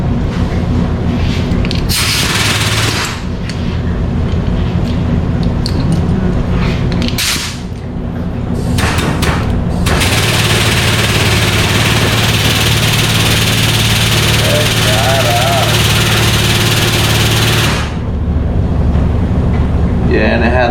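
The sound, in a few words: air over hydraulic jack ram being tested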